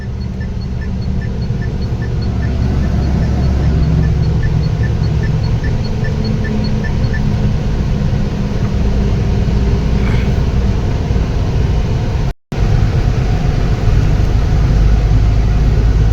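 A loaded coal truck cruising and overtaking on a busy highway in Gujarat, its engine giving a steady, loud low rumble with road noise throughout and a faint repeating tick.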